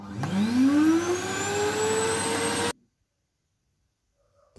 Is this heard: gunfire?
no